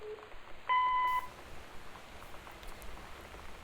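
A voicemail machine in the video game Gone Home gives a single clear electronic beep lasting about half a second, heard alone against a quiet background.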